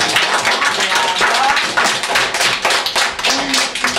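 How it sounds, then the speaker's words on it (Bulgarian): A group of children clapping together in a classroom, dense, loud, continuous applause that carries on steadily without a break. "Добре, пляскайте на математиките."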